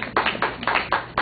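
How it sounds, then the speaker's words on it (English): An audience at a talk on global climate change claps in short, loud bursts at a steady, brisk rhythm, heard close with no talk. "You may applaud if you like"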